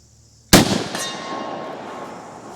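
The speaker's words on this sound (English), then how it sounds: "let's run 5 rounds of these Fusions and see what they do" A single sharp .30-30 rifle shot of Federal Fusion ammunition cracks loudly outdoors, followed by a ringing metallic tone and a fading echo.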